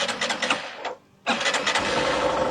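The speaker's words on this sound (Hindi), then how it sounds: "सबसे पहले मैं स्टार्ट करता हूँ एक्सटेक को" A Hero Super Splendor XTEC 2.0 motorcycle engine cranks, cuts out briefly, then catches and settles into a steady close-up idle with a mechanical ticking rhythm.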